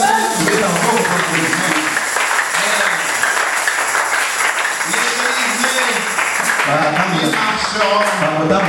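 A church congregation claps along while a voice sings or speaks loudly over it, with steady applause texture running beneath the voice for the whole stretch.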